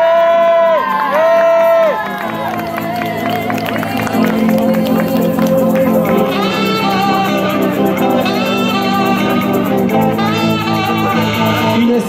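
A crowd at a 10 km road race podium claps and cheers beneath a loud amplified announcer, with music playing over the whole stretch and a steady wash of applause in the background.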